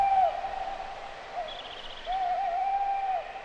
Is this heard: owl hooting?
yes